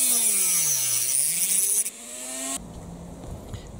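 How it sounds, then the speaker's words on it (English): A Dremel rotary tool whines at close range as it cuts a plastic part on a Bruder MB Sprinter RC model, its pitch sagging and rising under load before it shifts to a rougher grinding buzz. "I'm going to want to chop this piece here, which I'm going to do with the Dremel"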